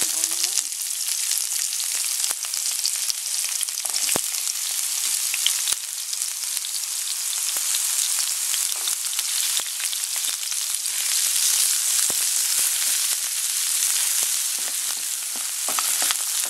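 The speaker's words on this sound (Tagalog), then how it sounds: "Hintayin lang natin mag-brown yung garlic, then ilalagay natin yung onions." Garlic and onions frying in a pan, a steady close sizzle and crackle with no talk over it.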